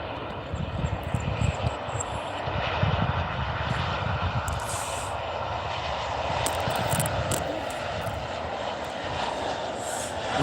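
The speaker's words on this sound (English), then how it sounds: "It's an Airbus 320. It's an iconic aircraft as well. Let's see how these pilots put her down." An Airbus A320 comes in to land at OR Tambo International Airport, a loud, sustained engine roar that stays steady throughout with a faint high whine on top.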